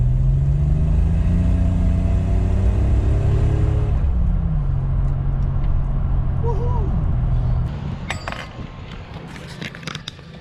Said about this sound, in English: now you can just totally hear the turbo spool on this